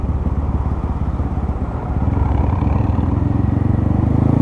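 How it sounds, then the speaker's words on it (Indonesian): A Honda Mega Pro motorcycle fitted with a Tiger Revo exhaust, ridden on a city street in Surabaya at night: a close, steady, throbbing engine burble that grows slightly louder partway through. "Mega Pro Hiu pakai knalpot Tiger."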